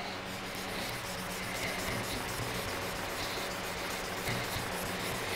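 Hand sanding with 600 grit sandpaper while polishing, a close, steady soft rubbing hiss with faint back-and-forth strokes and no talk.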